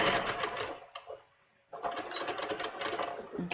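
Sewing machine stitching a bias top in two close, steady runs of rapid whirring stitches separated by a short pause, heard alone with no talking.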